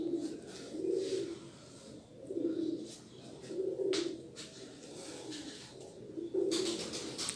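Teddy kabootar pigeons coo in a loft, with deep throaty coos repeating in about four swells roughly every second and a half. The birds sound close and moderately loud, and there is no talk.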